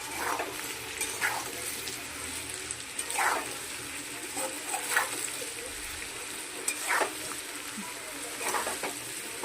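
Turmeric, poppy seed paste and tomato paste fry in a pan, a soft continuous sizzle broken by several scraping stirs of a spoon at irregular intervals, close and fairly quiet.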